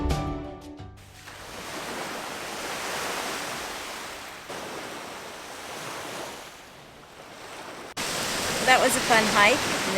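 Waves wash onto the Lake Michigan shore at Indiana Dunes, a broad continuous surf rush swelling and easing with wind, before a brief cut to birdsong near the end.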